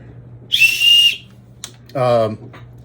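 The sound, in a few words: whistle built into walking stick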